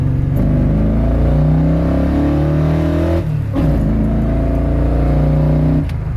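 Muscle truck with Holley Sniper EFI revving hard as it accelerates, loud and close, engine note climbing in sustained pulls with a brief dip around a gear change midway, then pulling again.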